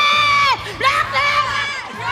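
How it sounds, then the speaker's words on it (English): An esports arena crowd at the MSC 2023 grand finals cheers and chants in loud, ringing shouts that rise and fall in a rhythmic call, close and filling the space. "Let's get them to cheer for Yue."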